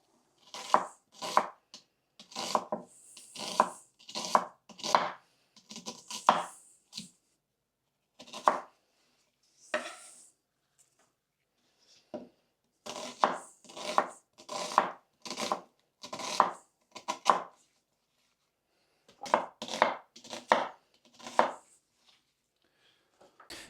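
A knife chops onions on a cutting board while a lamb khashlama is prepared, crisp repeated strikes in quick runs separated by short pauses, close and clear with no talk.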